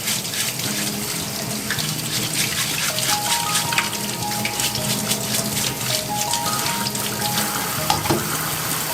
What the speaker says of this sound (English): First we're going to wash the oysters under running water and scrubbing with a steel wool on the outside.